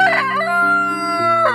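A rooster crows once in a long, drawn-out call with a harmonic, sustained tone, loud and close, among roosters showing off in front of hens.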